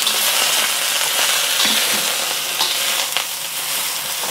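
Broccolini sizzles and crackles in hot oil in a wok while being stirred, a steady close frying hiss with occasional scraping and clicking, no voices.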